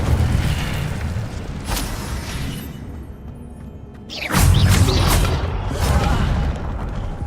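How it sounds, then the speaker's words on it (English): Incendio fire spell cast in Hogwarts Legacy, a whooshing burst with a booming, crackling roar that rises sharply partway through and lingers as game effects rumble. "Incendio."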